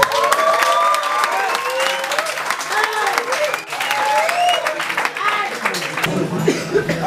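An audience claps and cheers after a live band performance, with lively applause and whoops, scattered voices and laughter, and a few coughs throughout.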